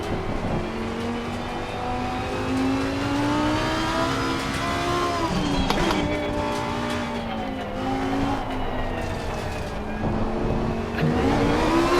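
Race car engine in Assetto Corsa Competizione, loud and continuous, revving through rising and falling gear changes with brief lifts off the throttle, sustained for the full stretch without talk.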